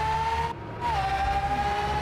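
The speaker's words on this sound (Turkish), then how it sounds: "Araba drift atarak kalktı adeta." A car in the Roblox driving game drifts off with a steady high engine whine that briefly dips and then resumes, sustained and close, with no talking.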